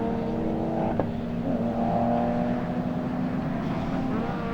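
A BMW race car in a British club race passes by, a loud steady engine note with a slight pitch shift as it goes by.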